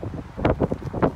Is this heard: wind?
yes